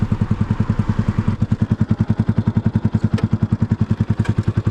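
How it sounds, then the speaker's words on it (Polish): A small Yamaha motorcycle engine, freshly woken after winter, putt-putting at idle with a steady, rapid pulse of low thumps that firms up and grows slightly louder after the first second, close by with no talk. "Jakoś się pyrka motorek."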